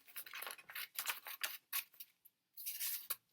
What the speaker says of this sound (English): I think I'm going to cut it in half again.